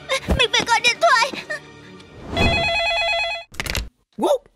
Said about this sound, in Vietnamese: Mình phải gọi điện thoại.